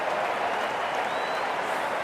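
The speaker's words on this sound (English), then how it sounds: "There's a buzz, a real buzz coming from the stands." A cricket stadium crowd in the Cricket 2024 video game roars and applauds steadily, a dense, continuous wash of distant cheering with no break.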